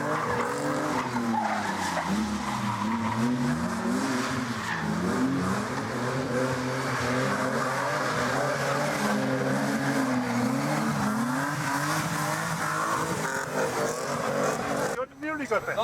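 A drift car sliding around a race track, tires squealing in long wavering howls over a revving engine, continuous and loud for most of the stretch before cutting off near the end.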